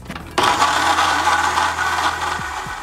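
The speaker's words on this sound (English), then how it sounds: "Cap that off and blend until everything is integrated." Blender whirring as it mixes a virgin strawberry daiquiri of strawberries, lime juice, simple syrup and water, starting abruptly into a steady loud motor roar that holds for a couple of seconds before slowing as it is switched off.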